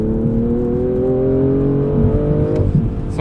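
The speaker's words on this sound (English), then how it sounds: "The car pipes in a little bit of sound, fake exhaust sound, when you're in sport mode" A 2020 BMW M340i xDrive in Sport Plus mode accelerates hard at full throttle, its engine note climbing steadily and loudly inside the cabin, boosted by piped-in synthetic exhaust sound.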